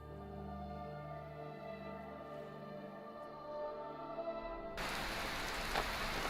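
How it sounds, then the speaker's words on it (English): Rain falls in the video game Skyrim. A tonal ambient drone plays first, then a sudden wash of steady, hissing rainfall takes over in the final seconds. "So it's raining, of course."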